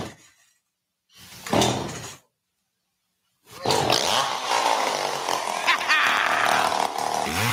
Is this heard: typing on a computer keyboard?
no